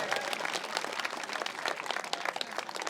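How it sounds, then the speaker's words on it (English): Middle school students at an 8th grade graduation ceremony give a round of applause: a dense, steady patter of many hands clapping at once, fairly soft and spread across the room. "why don't you have a round of applause for being done with iReady?"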